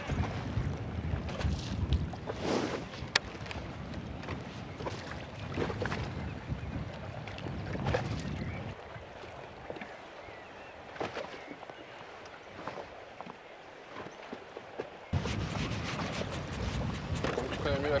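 An electric trolling motor with foot control drives a fishing boat across a lake in winter, a steady low hum beneath wind buffeting the microphone, with people talking over it for much of the time.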